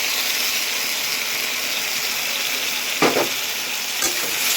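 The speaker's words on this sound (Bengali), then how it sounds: "এখন এর মধ্যে পেস্ট করা মশলাগুলো দিয়ে দিব" Spice paste of green and dried chillies sizzling in a pan with fried potato and taro, a steady loud frying hiss with a couple of sharp stirring scrapes near the end, no talking.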